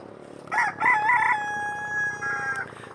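A desi rooster crows loud and close in a village haveli yard, one long drawn-out call with rising and wavering notes that ends abruptly, over a quiet background with no talk.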